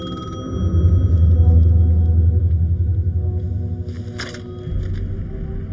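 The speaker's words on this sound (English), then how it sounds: "The payphone was ringing." A payphone rings in the video game Alan Wake II, a low, steady electronic ringing tone repeating over a rumbling ambient backdrop, fairly loud and close, with no one speaking.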